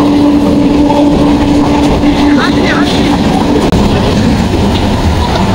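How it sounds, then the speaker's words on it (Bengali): A train runs past on a railway line with a loud, close rumble and rhythmic clickety-clack of wheels. A squealing tone and a brief whistle rise over the roar before it cuts sharply for a moment. "হাতে ট্রেন আসছে।"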